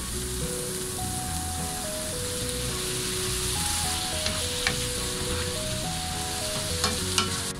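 Chopped tomato sizzles and fries steadily in a pan, a continuous crackling hiss with a few sharper pops near the end, close and fairly loud with no talking.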